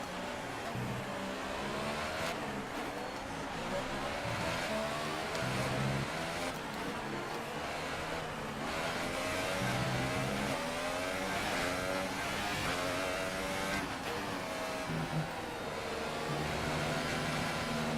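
An F1 2018 race car engine screams through a lap of the Mexican Grand Prix in the video game, rising and falling steadily as it revs through the gears, loud and continuous throughout.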